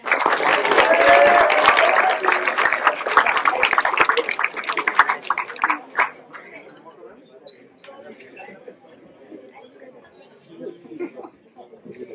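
An audience at a school slam poetry tournament applauds a poet. Loud, lively clapping fills the first several seconds, then thins and dies away, leaving a quiet room with faint scattered noises.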